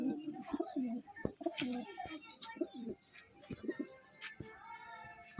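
A female Madrasi pigeon coos in soft, throaty bursts close by among other pigeons, with someone talking over and between the calls.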